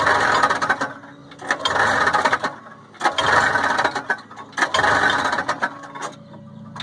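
A moped engine is pull-started over and over. Each pull brings a rasping mechanical whir that fades before the next, in a close, uneven rhythm of roughly four pulls.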